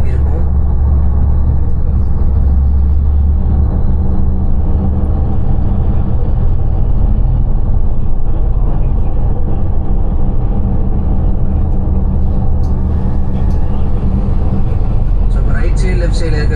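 Steady low engine rumble and road noise of traffic heard from inside a vehicle crossing a city bridge, continuous and fairly loud, with a person talking over it.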